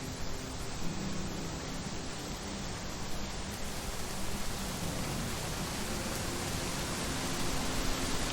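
Steady, dense rain from a weather system plugin in Unreal Engine, a continuous broadband hiss that holds even and fairly loud across the whole stretch with no voices.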